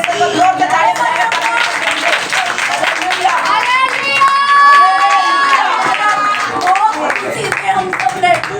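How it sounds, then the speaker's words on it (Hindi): At a Sunday worship meeting, the congregation claps loudly amid enthusiastic shouting and cheering voices, a loud, crowded burst of praise that continues without pause throughout. "जोर के ताली बजाएं"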